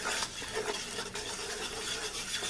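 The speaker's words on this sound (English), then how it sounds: "you got to keep stirring it, because if you burn it, you're going to be in big trouble" Steady scraping and swishing as a light blonde roux of oil and flour is stirred continuously in a pot for a Cajun-style seafood Creole, close and even with no talking.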